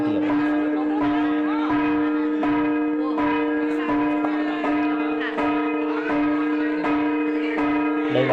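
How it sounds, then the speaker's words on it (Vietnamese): Metal gong struck repeatedly during a H'mong shaman ritual, ringing with a strong sustained tone and overlapping resonant strikes at a steady rhythm, loud and close. "Đây là cái cồng hay là cái chiêng gì đấy các bác."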